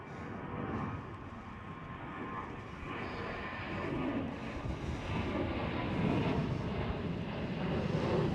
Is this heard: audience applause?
no